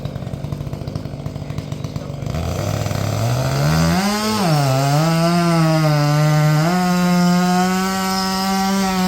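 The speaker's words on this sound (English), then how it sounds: "Good running saw. They are very good running saws." A Jonsered 2165 chainsaw tears through wood at full throttle in a cutting contest, loud and close, its pitch dipping as the chain bites and then holding a steady high whine.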